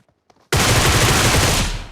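PUBG Mobile gunfire: after a few faint clicks, a sustained loud burst of rapid automatic shots erupts abruptly and runs continuously for about a second and a half before tapering off.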